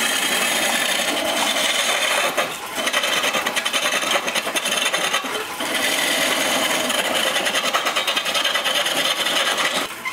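Hand rasp or file shaping a wooden stretcher for a perch stool, a continuous close scraping texture with rhythmic strokes and brief pauses throughout.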